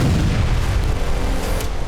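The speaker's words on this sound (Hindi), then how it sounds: "यह जोरदार धमाका लुहांस्क के कोवलिवका इलाके में हुआ।" A wartime explosion in Kovalivka, Luhansk, rolls out as a heavy, deep booming rumble that stays loud through the whole short stretch.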